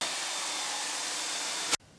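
A wet vacuum roars steadily as it sucks up water from a detergent-scrubbed floor, a loud continuous hiss that cuts off abruptly near the end.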